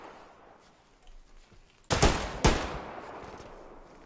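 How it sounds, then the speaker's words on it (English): Two loud, close gunshots crack about half a second apart in the WW2 game Hell Let Loose on a Normandy hedgerow map, then their echoes fade over quiet ambient battlefield noise. "so I guess we're just gonna start firing"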